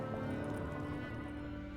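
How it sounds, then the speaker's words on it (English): Horses gallop in The Witcher 3 on PC. A quiet, steady patter of hooves runs under sustained game music, with no voices. "Grab a horse, we'll chase him down."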